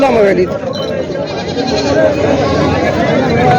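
Goats bleat at a busy Osmanabadi goat market in Purna, Parbhani, Maharashtra, a dense, crowded din of animal cries mixed with loud continuous human chatter nearby.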